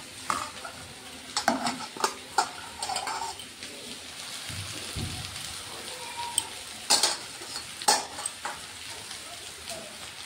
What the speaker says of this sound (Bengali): এর মধ্যে ঘিয়ে লঙ্কা দিয়ে দেব, আর একটু ভাজা ভাজা হলে সাবুটা দিয়ে দেব